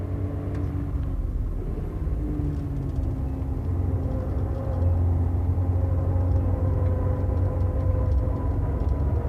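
Race cars, including a Skyline, a Supra and a 300ZX, drive on a track with a steady droning engine roar and sustained tonal hum whose pitch shifts as they hold the throttle down the straight.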